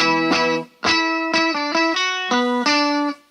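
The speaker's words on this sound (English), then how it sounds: "So I combine the 12-string sound with a pretty heavy delay and distortion." A Line 6 Variax modeling guitar set to a Rickenbacker 12-string tone plays a short series of loud, bright, chiming notes through heavy delay and distortion, with the notes ringing out alone.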